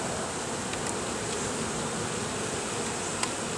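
Honeybees from a colony cut out of a family room ceiling buzz steadily around their hive frames, a dense, close, continuous hum with no talking.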